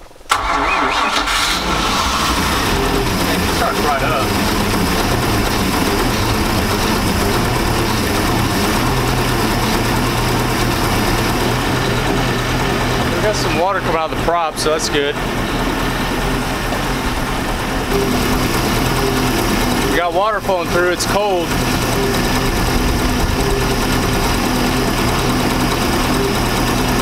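A boat engine idles steadily and loudly throughout, a constant mechanical drone, with someone speaking briefly over it; the engine is running after the boat caught fire, with a smell from the alternator.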